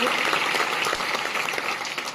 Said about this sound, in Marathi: याचं एकदा टाळ्या वाजवून आपण स्वागत करतो.